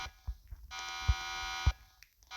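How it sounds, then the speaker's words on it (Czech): Electronic alarm sounding in a break-in story video game, a steady buzzing tone that holds for over a second with dull thumps before and during it, moderately loud. "Alarm."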